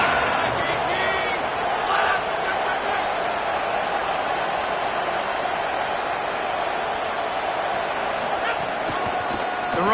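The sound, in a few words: stadium crowd cheering on third down at a football game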